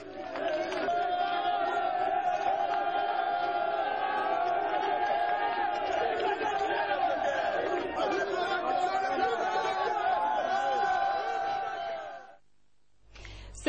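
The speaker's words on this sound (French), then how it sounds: "le chef de l'État a eu droit à une belle foule des dockers venus lui exprimer tout leur soutien" A large crowd of dockers at a port container terminal cheers and chatters in support, a dense, sustained roar of many voices with shouts rising above it, then dropping away abruptly near the end.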